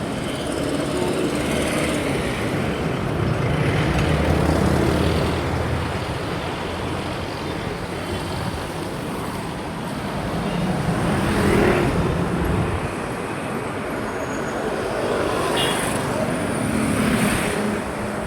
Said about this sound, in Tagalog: Highway po yan.